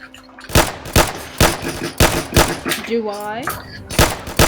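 Rapid pistol shots from a one-versus-one video game match, sharp loud cracks firing in quick irregular bursts, with players talking over the gunfire.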